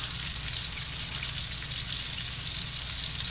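Water simmering in a pot with lemongrass, tomato and onion for a vegetable dish makes a steady, dense, bubbling sizzle that runs without a break. No one speaks over it.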